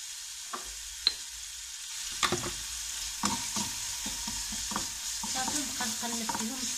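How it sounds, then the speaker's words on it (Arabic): Onion frying in a pan for homemade tacos and being stirred, giving a steady close sizzle broken by repeated scraping and clattering strokes of the spoon against the pan, with no talking. "شويه ديال البصل، غير شويه. صافي نبقى نقلب"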